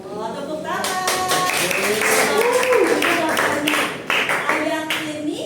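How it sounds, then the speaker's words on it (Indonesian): Students clapping their hands in a classroom during a teaching practice lesson, a quick, steady burst of claps that is loud and close, with voices talking over it. "Masya Allah, tepuk tangan"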